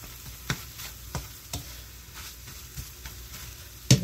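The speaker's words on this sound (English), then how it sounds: "I'll turn my heat off right now, because these eggs are almost cooked" Eggs frying in a pan on a home stove, a soft steady sizzle under a series of light scraping and tapping stirs at a roughly even pace, with a sharper clatter at the end.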